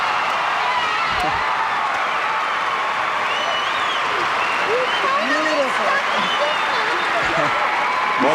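A gymnastics championship crowd applauds and cheers after a women's all-around routine, a loud continuous roar of clapping with whistles and excited voices rising through it, steady for the whole stretch.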